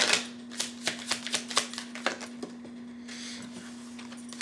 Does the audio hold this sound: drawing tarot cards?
yes